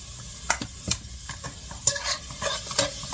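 Garlic and beef being stir-fried in oil, with a bed of sizzling and repeated sharp scrapes and knocks of a utensil against the pan at an irregular rhythm, close and clear, with no speech.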